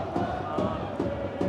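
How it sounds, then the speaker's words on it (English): A riled-up football crowd at the Hawthorns stadium during a West Bromwich Albion match against Hull City, heard as a broad, continuous roar of many voices with rhythmic chanting pulses, dense and sustained. "It has really riled up the Hawthorns crowd as well, as you can hear."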